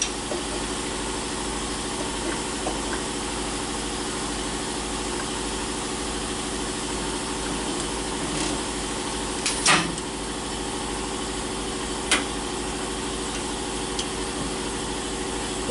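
A valve seat cutting machine runs on a Buick 264 Nailhead cylinder head, a steady close motor drone with a faint whine and a couple of brief metallic ticks near the end.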